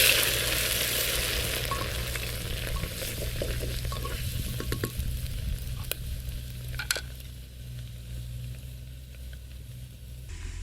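Garlic ginger paste with cumin frying in very hot oil, a steady close sizzle with stirring scrapes and a few sharp clicks, the hiss easing gradually over the clip with no talking.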